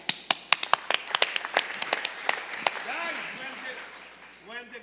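An audience at a startup launch event gives a burst of sharp, scattered hand claps welcoming presenters, thinning out into a lull with faint voices and cheering toward the end.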